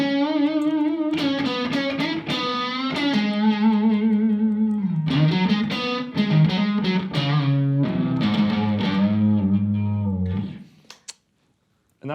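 An expressive distorted electric guitar line with bends, slides and vibrato, played alone and loud, fading into silence at the end.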